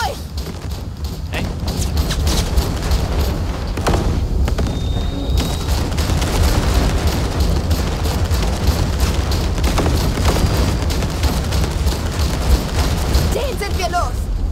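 An explosion in the video game Cyberpunk 2077 sets off a loud, sustained booming rumble. Dense roaring noise fills the whole stretch with little letup.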